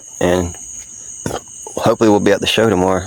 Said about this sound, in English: sorry about the crickets chirping in the background